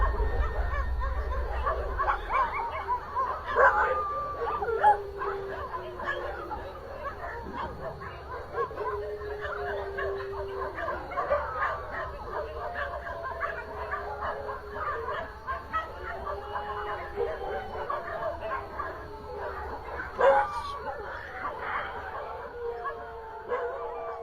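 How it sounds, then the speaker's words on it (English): Several agitated dogs bark, yip and howl together outside a house at night, a restless, continuous chorus at moderate distance with sharper bursts near the start and around the twentieth second. "But, to the horror of Gerard, he hears the dogs unusually active and startled and begins to record."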